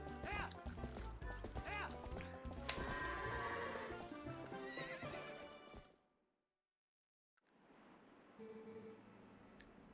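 Horse whinnies and clip-clopping hooves from Epona, Link's horse in the video game Zelda Twilight Princess, loud and busy with game music for about six seconds, then silence, then softer game ambience returns.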